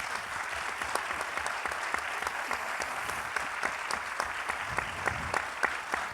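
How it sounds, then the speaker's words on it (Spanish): A live audience at a literary gathering applauds for a woman writer: sustained, even clapping from a crowd, moderately loud and steady with sharp individual claps poking through. "dándole el aplauso más grande del mundo"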